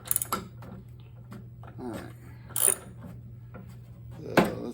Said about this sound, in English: So I remove the nut.